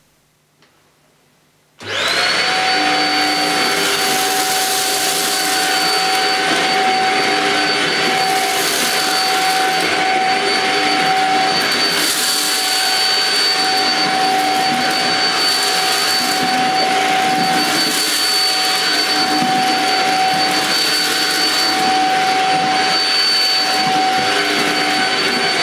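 Shark Rocket Duo Clean cordless vacuum cleaner starting up and sucking up dirt from a hard floor, a loud sustained whirring roar with a high whine and occasional rattling of debris.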